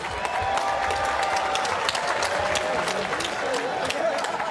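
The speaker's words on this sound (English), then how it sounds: "let's have a nice round of applause for both fighters, please." A large crowd at a bare-knuckle fight applauds continuously, dense clapping with scattered cheers and whistles, steady and loud throughout.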